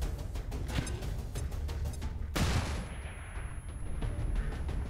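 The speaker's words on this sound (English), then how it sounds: "another flashbang" A flashbang grenade goes off midway through a stretch of rapid gunfire in XCOM 2 Long War 2, a single sharp bang followed by a hissing, ringing decay, then the firing resumes.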